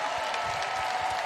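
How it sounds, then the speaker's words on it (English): Audience applause at the opening ceremony of the 2022 Special Olympics USA Games, a steady wash of many hands clapping from a large crowd, continuous and even without voices. "Another round of applause for them"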